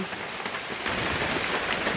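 Heavy rain pours steadily with a constant, even hiss, no voices present.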